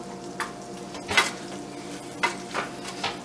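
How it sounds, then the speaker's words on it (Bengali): Butter melts over low heat in the same pan that held the lamb steaks, giving a soft, quiet sizzle broken by a few sharp scrapes and clinks of stirring. "জাস্ট আমি বাটারটা গলাচ্ছি, খুব বেশি হিট করব না কারণ বাটার খুব ইজিলি স্মোক করে"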